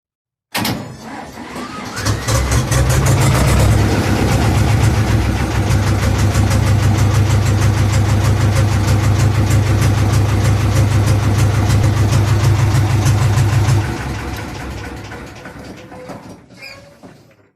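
An Ursus C-330 tractor with a new solenoid starts: a brief cranking, then the diesel catches and settles into a loud, steady, rapidly thumping idle close by for about twelve seconds before dropping to a lower, fading run.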